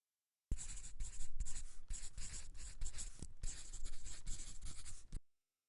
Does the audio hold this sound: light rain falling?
no